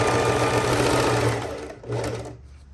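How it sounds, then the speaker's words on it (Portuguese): A sewing machine stitches elastic onto the waistband of pajama pants, running in a loud continuous burst, pausing briefly, then whirring again for a short stretch before stopping. "vou esticando e vou passando essa costurinha"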